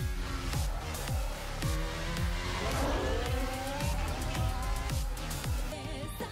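Race car engines roar and whine through a Formula 1 racing video game trailer, with rising revs and skidding tires layered over steady, punchy rhythmic music.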